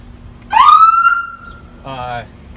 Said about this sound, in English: I'll check my lights and my sirens, make sure they're working properly.